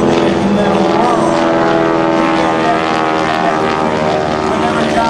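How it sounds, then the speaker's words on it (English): A propeller aerobatic airplane performs at the Fair St. Louis Air Show, its engine drone loud and steady throughout with a rising and falling harmonic whine as it maneuvers, crowd noise and a commentator's voice faintly underneath. "John Mohr does more with this airplane than any other man or woman in the world."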